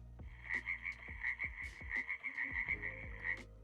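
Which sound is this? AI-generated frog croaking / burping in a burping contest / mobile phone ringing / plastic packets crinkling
AI-generated frog croaking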